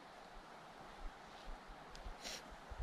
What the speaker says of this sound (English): you can hear the Hoh River in the background